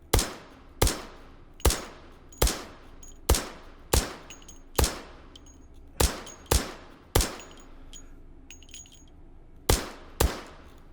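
Suppressed MK23 pistol shots in the VR shooting game H3VR, about a dozen sharp, clean reports fired at a steady pace roughly once per second, each followed by a short fading tail, with no talking.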